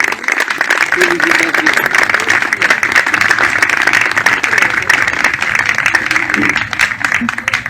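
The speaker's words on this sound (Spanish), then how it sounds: "merece un aplauso" Applause from an audience at a talk about a radio telescope in San Miguel, a steady dense wash of clapping lasting several seconds with faint voices underneath.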